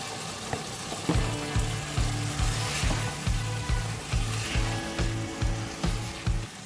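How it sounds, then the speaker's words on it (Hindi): Boiled turnip and chicken fry together in a pan, a dense close sizzle broken by regular stirring thumps and scrapes roughly every half second. "तो ये देखिए शलजम को भी मैंने भून लिया 5 मिनट थोड़ी अच्छी तरह"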